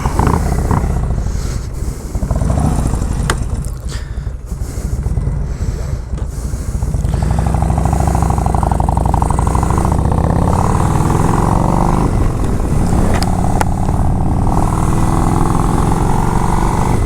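A motorcycle pulls away and rides on, a loud, continuous engine drone buffeted by heavy wind noise for the whole stretch, with rising and falling tones as it accelerates.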